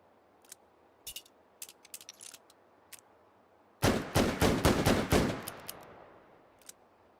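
A virtual Smith & Wesson Model 29 .44 Magnum revolver in H3VR, a rapid string of about seven sharp, loud shots with ringing tails, preceded by faint clicks and handling knocks.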